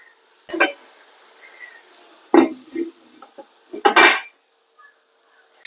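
Beef biryani masala is stirred in a pot, with a few separate clanks and scrapes of a spoon against metal over otherwise quiet background.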